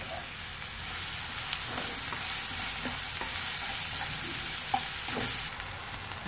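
Onions fry in a pan with asafoetida for a moth bean curry, giving a steady, soft sizzle with light stirring clicks scattered throughout.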